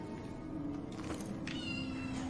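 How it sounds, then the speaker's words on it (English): Kitten chirping in the video game Dishonored 2, a few short high chirps scattered over a steady ambient game hum, moderately close. "there's my kitten chirping"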